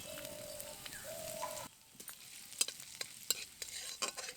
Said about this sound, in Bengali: আদা কুচিটা একটু ভাজা হয়ে এসেছে